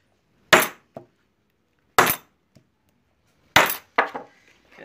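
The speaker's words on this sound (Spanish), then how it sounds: "Usamos esto para que quede bien el remache, no ir directamente con el martillo" A hammer strikes a tool set on a rivet to fix it into a men's leather bag, giving four sharp, ringing metallic blows with short echoes, spaced unevenly in a quiet room.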